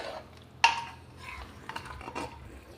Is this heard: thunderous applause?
no